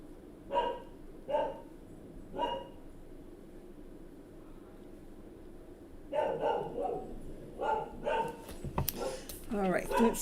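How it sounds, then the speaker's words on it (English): A dog barks in three sharp barks, then pauses before a cluster of quicker barks and yips, moderately close, with a voice talking alongside toward the end. "my dog's barking."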